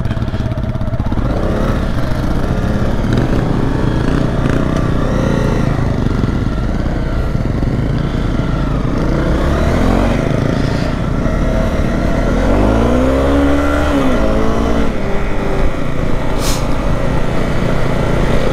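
A Honda CRF 250 dirt bike rides across the North Yorkshire moors, its engine droning steadily and close throughout, with the revs rising and falling partway through under wind.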